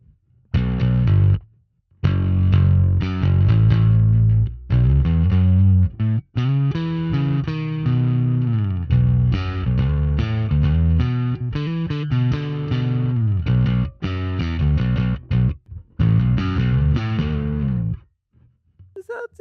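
Electric bass run through a Sonicake Matribox II Pro multi-effects processor with a drive effect, gain lowered and blend raised, plays a loud, gritty run of notes and chords with short gaps, alone without talk.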